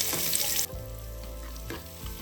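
Sliced onions dropped into hot oil with cashews for egg biryani, a bright hiss that settles into a steady low sizzle, with occasional stirring scrapes; nobody speaks.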